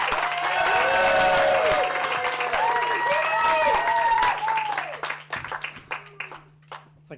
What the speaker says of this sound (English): clapping, start cheering, go crazy for the amazing Andrew West!